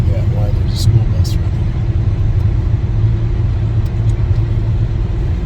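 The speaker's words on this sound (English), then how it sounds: "I'm trying to figure out why there's a school bus" School bus engine idling nearby: a steady low rumble runs throughout under close conversation, with brief high clicks near the start.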